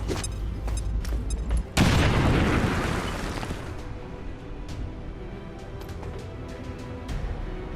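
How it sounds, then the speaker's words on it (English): A grenade blows up in XCOM 2 with a loud, sharp blast and a rumbling burst that slowly decays, after a stretch of busy game noise, with scattered small crackles and clicks afterward. "now I throw a grenade"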